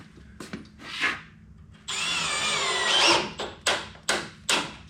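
Power drill driving a screw into wood during drywall work, with short bursts of whirring, then a longer sustained whine as the clutch engages and ratchets, followed by a few more brief spins.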